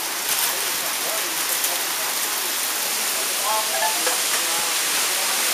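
Heavy rain pours steadily during a severe thunderstorm, a dense, continuous hiss with no pauses and no talk.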